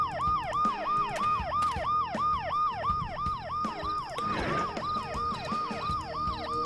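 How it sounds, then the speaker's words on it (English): A wailing ambulance siren in the video game Dead Synchronicity cycles rapidly up and down, loud and steady throughout, with a brief burst of noise partway through. "The noise the ambulance makes will cover the sound of the glass breaking."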